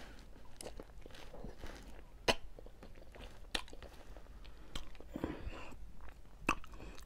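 Someone chews and crunches on fried food with crisp onions in a sauce at a mukbang of fried ranch wings, fish and shrimp. Close, uneven crunchy bites and clicks sound over a soft background.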